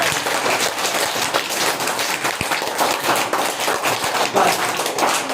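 Applause from a seated audience at a school graduation ceremony in India, a dense, steady wash of many hands clapping that carries loudly and evenly through the whole stretch with a few sharper claps standing out.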